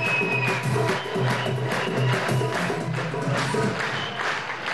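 Theatre audience at a comedy show in Algiers clapping together, a dense, steady wash of applause filling the room throughout with faint crowd voices underneath.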